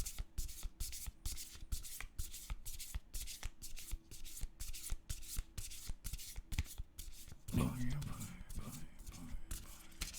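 Oracle and tarot cards are shuffled in rapid, regular riffling bursts, close and crisp, for most of the stretch, giving way near the end to a brief clatter and rustle of handling.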